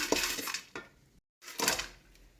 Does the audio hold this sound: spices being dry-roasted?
yes